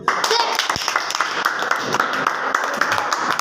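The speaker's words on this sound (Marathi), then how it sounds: "यांच्या मैत्रीसाठी सगळ्यांनी टाळ्या वाजवा" Group clapping at a school gathering among friends, steady close-up claps through the whole stretch with talk and murmur mixed in underneath.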